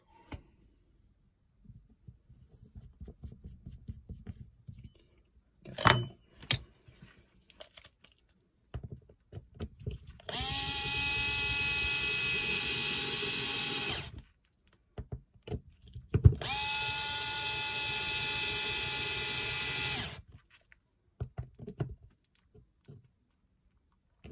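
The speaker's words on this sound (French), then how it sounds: "les visse avec la visseuse aux 3/4 et puis je finis au tournevis" A cordless screwdriver drives screws during a differential oil change, two sustained high whining runs of several seconds each, close and loud. Clicks and small metallic handling noises fill the gaps around them.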